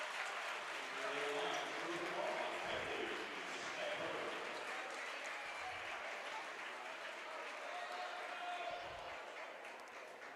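A crowd applauds steadily at a Kentucky high school girls' basketball district championship as the starters leave the court, a broad sustained ovation with a commentator talking over it.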